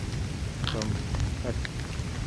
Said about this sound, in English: Thunder. So my rain song didn't really work.